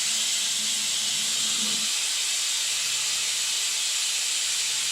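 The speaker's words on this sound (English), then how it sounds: "we let the compressor recover." An air compressor runs while it recovers pressure, giving a steady, loud broadband hiss that holds evenly throughout, with a faint low hum underneath and no voices.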